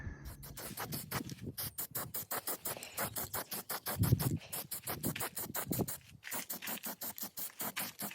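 Rapid, rhythmic scratchy strokes of a broom sweeping a hard surface, steady and close, with a brief pause near the end before the brushing resumes.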